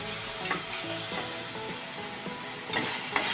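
Onions frying in a pan for shahi paneer give a steady, close sizzle, with occasional stirring scrapes and a few louder spatters.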